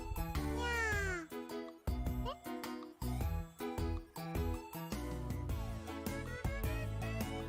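In the video game Chrono Clock, a character playfully imitates a cat's meow. Bright, tinkly game music with repeated melodic phrases plays throughout, and high, sliding meow-like tones rise through it.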